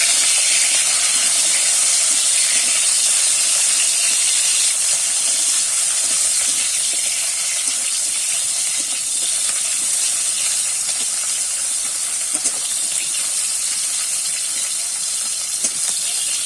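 Drumstick stems lightly frying in a pan for a shukto dal, giving a steady, even hiss of sizzling that holds at one level throughout with no voices.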